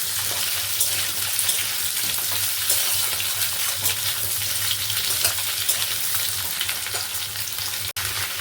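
Hard vegetables frying in a pan for a milk-vegetable curry, a loud continuous hissing sizzle with a steady low hum underneath, no talk.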